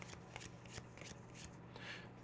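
A deck of spell cards is sorted by hand, making close, dry riffling and flicking sounds in quick bursts with no talking.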